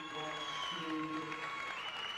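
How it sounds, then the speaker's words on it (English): Applause from the crowd at a 1987 high school basketball game between Bridgewater West and Somerville, greeting starters pulled in a mass substitution; a steady, moderately distant patter of clapping with a voice talking over it. "The crowd giving their 4 starters, everyone but Dave Miller, a great hand"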